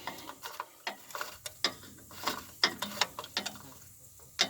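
A ratchet wrench tightens a bolt on a 1995 Dodge Dakota Sport transmission, giving a series of sharp, close clicking bursts in an irregular rhythm with short pauses, heard alone.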